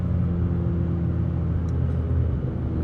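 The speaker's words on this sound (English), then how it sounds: "So you've got your foot off the gas, clutch, rev, shift to the engagement point, and then off." Car engine revving briefly as the driver blips the throttle with the clutch in during a rev-match downshift, a steady low rumble close by with no talk.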